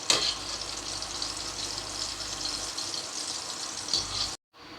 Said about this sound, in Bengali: এবার ওই তেলের মধ্যে আমি আস্তে আস্তে একটা করে ডিমগুলোকে ভেজে নেব